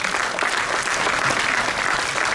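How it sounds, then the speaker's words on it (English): Dense, loud audience applause at a Model United Nations opening ceremony greeting the secretariat, continuous clapping from a large crowd with no pauses. "A huge round of applause for the secretariat"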